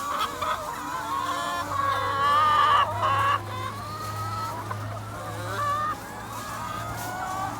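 Backyard laying hens cluck and squawk in a steady, busy chorus, with a goose-like honk and a continuous low hum running underneath throughout.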